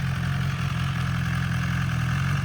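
A 2016 BMW S1000XR motorcycle engine runs at a steady idle, a close, even hum with a low throbbing tone that holds unchanged throughout, with no voices.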